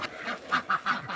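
A terrestrial duck, a hen whose legs did not develop properly, calls loudly in a rapid series of about five honking quacks, close and alone.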